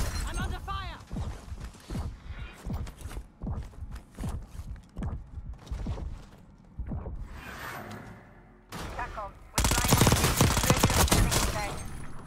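Rapid bursts of automatic gunfire in the Warzone shooter video game, rattling in repeated clusters with brief pauses, then a louder, denser barrage near the end.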